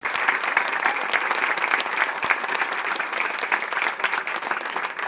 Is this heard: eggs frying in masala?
no